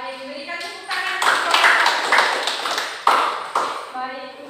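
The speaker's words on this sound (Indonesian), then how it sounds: "berikan tepuk tangan" A small classroom group claps briefly in scattered, uneven bursts at a micro-teaching lesson on globalisation, with a voice speaking over part of it.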